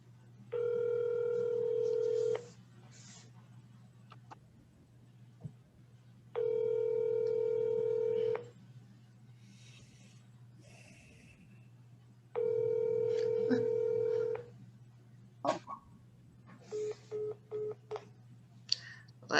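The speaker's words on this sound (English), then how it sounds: "Answer the phone, Sharon." A telephone ringback tone sounds on a call placed during a virtual township board meeting: three long, loud two-second tone bursts with pauses between, then short tones and beeps near the end, with faint talk in between.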